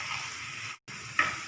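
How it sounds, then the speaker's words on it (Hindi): Gajar halwa (carrot halwa) roasting in a pan, giving a steady soft sizzle and hiss with a brief stir-scrape near the end, close and fairly quiet, no talking. "अब हमने इसको अच्छी तरह भूनना है"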